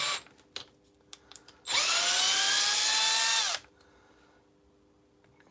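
A cordless power drill whirs loudly for about two seconds as it backs out a screw, its pitch rising and falling slightly, bracketed by soft clicks and handling noises before and after.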